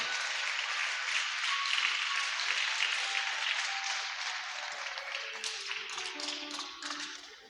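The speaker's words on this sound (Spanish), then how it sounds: "Dale un aplauso a la palabra de Dios" Applause from a church congregation, a dense wash of many hands clapping steadily at full strength, then gradually thinning and fading toward the end.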